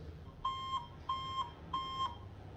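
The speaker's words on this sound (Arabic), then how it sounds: "لما تفتح الجيمبل وانت عامل اللوك هتلاقي الجيمبل بيصوت" A Zhiyun Weebill 2 camera gimbal, switched on while its axis lock is still engaged, gives three evenly spaced, steady electronic beeps, each about a third of a second long, close and clear against a quiet background.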